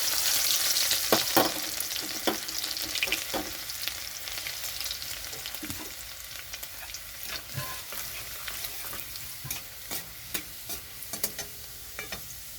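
Steady crackling sizzle of black cumin, dried red chillies and garlic frying in hot oil, with sharp pops and occasional stirring clatter, close by and with no voices.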